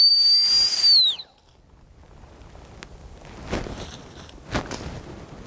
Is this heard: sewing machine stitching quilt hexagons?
no